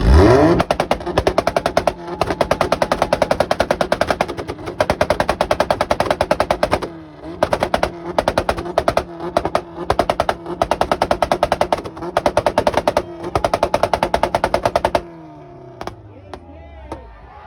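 A Mazda RX7 and an Acura Integra hold two-step launch control together at a car meet in Loveland, Colorado, firing loud, rapid machine-gun-like backfire pops over revving engines for about fifteen seconds before the barrage cuts off and the engines settle.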